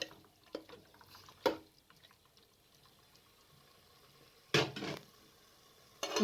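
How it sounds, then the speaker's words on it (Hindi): Water goes into a pot of simmering turnip and greens saag and gets stirred in, giving a few short splashes and sloshes between long quiet stretches, close and soft. "और तकरीबन पौना गिलास पानी शामिल करके अच्छे तरीके से मिक्स कर लें"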